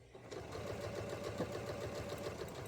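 A sewing machine runs at a steady pace while stitching quilt squares from fish-print fabric, a close, quiet, continuous mechanical whir with a fast even rhythm.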